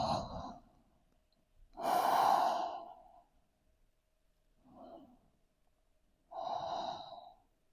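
Deep breathing during a shoulder-focused stretching flow: three slow, heavy exhales, the middle one longest and loudest and the last fairly strong, separated by quiet pauses, close and with no talking.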